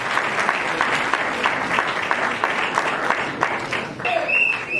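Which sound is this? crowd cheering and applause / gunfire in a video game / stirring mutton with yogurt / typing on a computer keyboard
crowd cheering and applause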